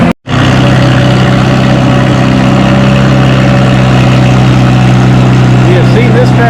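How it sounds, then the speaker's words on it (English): A Farmall tractor engine running steadily at a fall tractor pull in Lynden, a loud continuous low drone that fills the whole stretch after a brief cutout at the start. "You have seen this tractor before."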